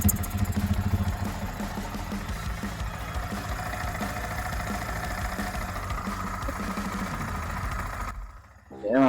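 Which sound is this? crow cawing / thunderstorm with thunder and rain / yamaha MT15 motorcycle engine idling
yamaha MT15 motorcycle engine idling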